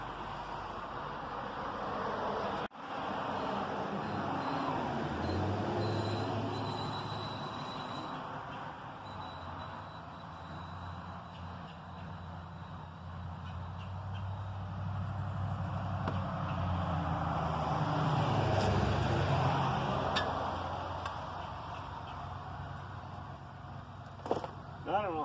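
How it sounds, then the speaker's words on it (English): Road traffic passes by outdoors near flower beds, a broad rumbling wash that swells and fades as vehicles go past, with a louder pass building toward the end and someone talking over it. "we do get a good bit of traffic through here"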